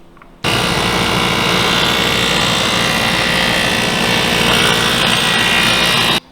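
Power tool cutting a dado into 1/2 inch plywood in a woodshop: after a brief quiet start, a loud, steady high-pitched whine and rough cutting noise run unbroken for about six seconds, then stop abruptly.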